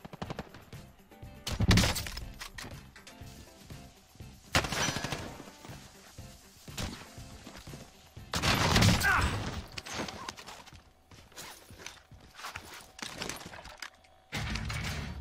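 Gunfire in the Warzone video game, arriving in several separate bursts of sharp cracks spread across the stretch, loud and close, with quieter game noise filling the gaps between.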